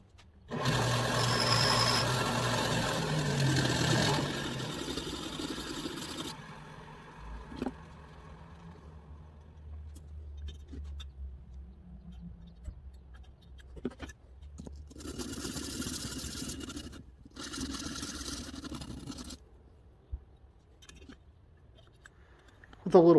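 Valve stem end on a Clinton B1290 small engine being ground, filed and sanded to set valve lash, heard as a loud steady grinding burst at the start, then quieter intermittent filing and scraping strokes with pauses.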